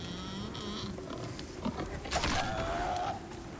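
A pig in the survival video game Icarus grunts and squeals amid a steady outdoor ambience, with a rising squeal in the middle, fairly close and unaccompanied by speech.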